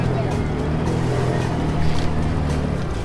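A jet ski engine fires up and revs under throttle while the watercraft backs up, a steady loud low motor drone running throughout with a voice talking over it.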